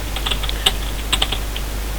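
Quick, light clicks of fingers typing on a computer keyboard, a short irregular run of close keystrokes over a steady low hum, with no speech.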